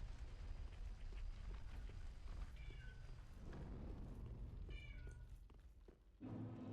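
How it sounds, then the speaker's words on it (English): A pet cat yowls from across an apartment, giving a few faint, distant drawn-out cries over a low background hum from a Dark Souls 3 game. "I hear the kitty cat. My poor sweet boy yowling across the apartment"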